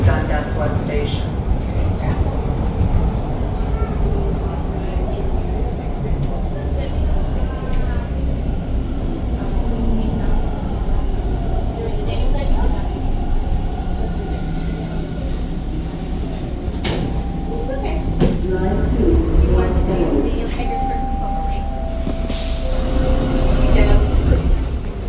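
TTC subway train pulling into Dundas West station in Toronto, a loud rumbling ride with rail clatter and high squealing wheels as it brakes, a voice speaking over the noise.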